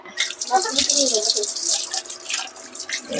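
Water splashes and runs steadily as tamarind is mixed into it to make tamarind water during home lunch cooking, a continuous bright wash of liquid noise with a faint voice murmuring underneath.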